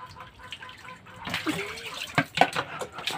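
Water splashes and pours while a dog is bathed with soap, irregular gushes and splatters building midway, fairly close, with people talking softly around it.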